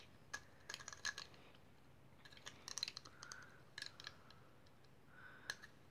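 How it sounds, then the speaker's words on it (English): Scissors snip in small quick clusters during a soft-spoken haircut role play, faint and close, with crisp metallic clicks and short pauses between bursts. "Special scissors for children, or adults alike, if you like."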